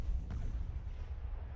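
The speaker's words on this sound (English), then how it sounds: "So many explosions." Explosions rumble through a mech battle video game, a dense, continuous low booming wash with one sharper blast early on, loud and sustained throughout.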